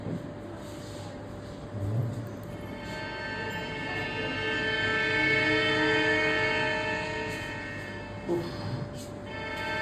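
A train rumbles steadily along the rail line while a long, loud horn sounds over the running noise, holding for several seconds before fading, with a couple of brief knocks underneath.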